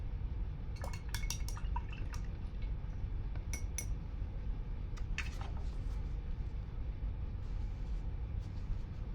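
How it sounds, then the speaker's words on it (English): An acrylic paintbrush rinsed in a water container, giving scattered light drips, splashes and glassy taps, some in quick clusters, faint and close over a steady background hiss. "I'm gonna wash my brush"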